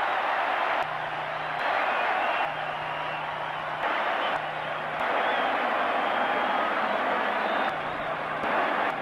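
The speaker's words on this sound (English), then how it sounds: "Listen to this crowd." Roaring crowd noise fills a Seattle Seahawks home stadium during a 1984 game against the Los Angeles Raiders, a loud, sustained wash of voices with slight swells, with a steady low tone cutting in and out beneath it.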